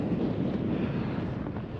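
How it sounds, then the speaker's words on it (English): Strong wind blowing across a mountain top in winter, a constant loud roar buffeting the microphone with no pauses. "it is quite blowy"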